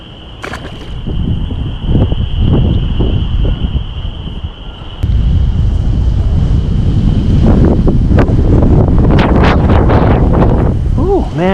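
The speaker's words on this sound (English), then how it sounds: "Oh man, it is windy." Strong wind on a lake during bass fishing buffets the microphone in loud, rumbling gusts that grow heavier partway through, with some faint water and boat sounds underneath.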